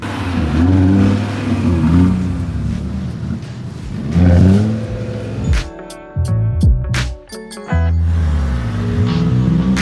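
A car engine revs and pulls away, the rising engine note mixed with tonal beeps and jumpy bursts midway, loud and close throughout.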